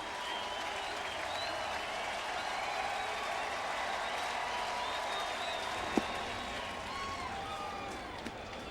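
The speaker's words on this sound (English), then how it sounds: "Crowd on their feet" A baseball stadium crowd at a Marlins versus Cardinals game stands and applauds, a steady, sustained wash of clapping and cheering with one sharp clap popping out near the end.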